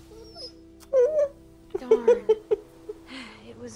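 A dog in The Walking Dead video game lets out short, high, nasal whimpers and whines in a broken series, close and plaintive, with a human voice mixed in.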